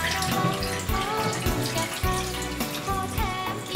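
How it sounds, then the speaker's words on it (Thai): Water runs steadily from a tap while vegetables are rinsed, splashing and hissing continuously, with occasional clinks and knocks mixed in. "ก็ ล้างก่อนแล้วก็ เทน้ำทิ้งให้หมดนะครับ"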